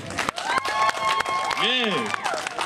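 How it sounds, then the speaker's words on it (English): Audience applause and cheering at a Pride performance event in Toronto, mixed with voices and excited whoops over the clapping. "round of applause for the babies,"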